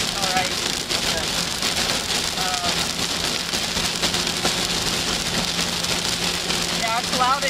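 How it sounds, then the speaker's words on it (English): Heavy rain drums steadily and loudly on a car windshield during a severe Oklahoma storm, a dense continuous hiss with muffled voices underneath. "the harder it rains, the louder the interference is"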